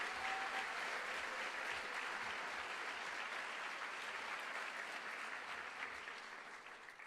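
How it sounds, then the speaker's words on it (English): Sustained applause from an audience at a high school honors night, a dense steady clapping that fills the hall and tapers slightly at the end. "Please give them a round of applause."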